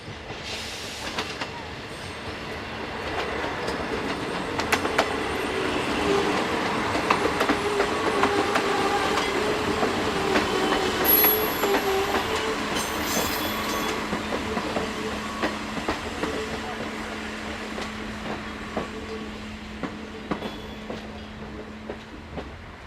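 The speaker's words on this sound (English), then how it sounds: "This is the 1318 departure from Zagorzelec, operated by a pair of Class SA135 diesel railcars." A pair of Class SA135 diesel railcars departs Zagorzelec. A steady engine drone builds and holds, with rail clatter and wheel noise rolling past close by, then slowly fades.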